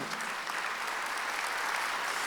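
A church congregation at a Sunday worship service applauds together, a dense, steady burst of clapping from a large crowd lasting a couple of seconds at moderate distance.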